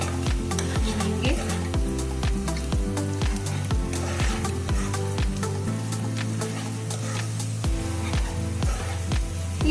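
Ginger garlic paste fries with light pink onions in plenty of oil, a loud continuous sizzle broken by regular rhythmic scrapes and knocks of a spoon stirring in the pan, with no talking.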